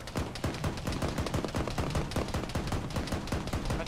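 Rapid, dense gunfire in a military video game, sustained bursts of automatic fire cracking over one another loudly and continuously with no pauses.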